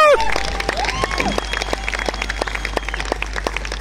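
Audience clapping at a product launch event, a crowd applauding steadily with sharp irregular claps under whistling tones and a swooping electronic sound effect, with some cheering mixed in.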